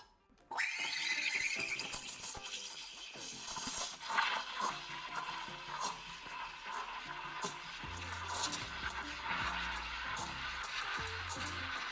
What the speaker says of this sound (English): And then froth our milk.